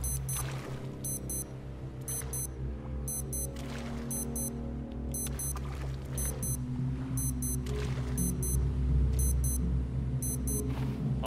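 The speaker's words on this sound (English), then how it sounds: "my watch is beeping now. It's beeping a lot." Electronic wristwatch beeps in the Stranded Deep survival game, a doubled high chirp repeating roughly once a second over a steady low hum of ocean and game ambience.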